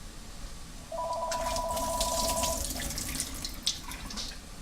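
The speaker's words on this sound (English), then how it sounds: "I am going to drain the water of the olives because that's a little too wet" Brine drained from an opened can of olives splashes into a sink for about three seconds, with a steady electronic beep tone partway through and faint clatter near the end.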